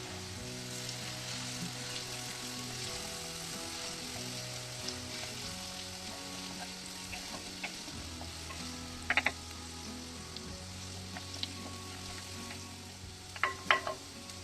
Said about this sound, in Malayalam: ഇതൊരു 30 സെക്കൻഡോളം ജസ്റ്റ് ഒന്ന് വഴറ്റിയെടുക്കുക